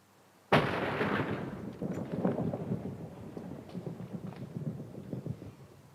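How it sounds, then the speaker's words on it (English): A loud thunderclap from a Minecraft thunderstorm cracks in suddenly, then rolls and rumbles on for several seconds, fading unevenly with no talk over it. "I want to be outside in the storm now."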